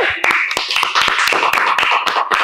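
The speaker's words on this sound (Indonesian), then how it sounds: "Kita tepukin dulu" A small group clapping hands close by in a studio conversation setting, sharp irregular claps coming rapidly and loudly throughout, with faint voices underneath.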